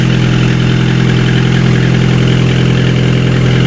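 LADA Kalina car engine idling evenly after servicing, a loud, steady, close-up rumble with a constant low drone and no voices.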